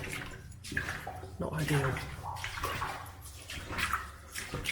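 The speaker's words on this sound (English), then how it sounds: "But this water, oh, it's just dripping on my head now." Water drips and trickles inside an abandoned underground service tunnel in Kent, a soft, irregular splashing close by with a roomy echo, while someone speaks briefly over it.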